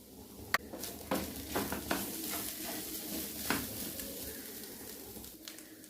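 Coconut rice masala roasting with black pepper powder in a pan, a low continuous sizzle punctuated by light, regular spatula scrapes and taps.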